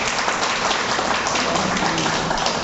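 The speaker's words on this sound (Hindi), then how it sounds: "बजाओ एक बार अच्छी तरह ताली।" An audience claps together in steady, loud applause that fills the whole stretch at a spiritual talk in Nepal, with no voices over it.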